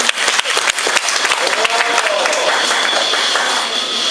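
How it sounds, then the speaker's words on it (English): Applause from a cruise concert audience, dense steady clapping filling the room, loud and close, with some faint voices and a whistle-like tone mixed in, continuing throughout. "I think that deserves a round of applause"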